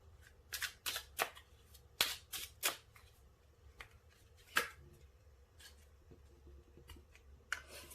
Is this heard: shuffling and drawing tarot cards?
yes